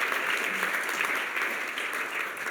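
A church congregation applauds during a Sunday service, a dense, even wash of clapping that holds steady and loud throughout before easing slightly at the end.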